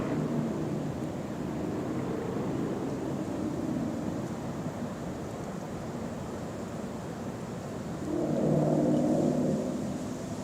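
A helicopter passes overhead as a steady, muffled rumble and drone that holds through the whole stretch and swells a little louder near the end, with no voices.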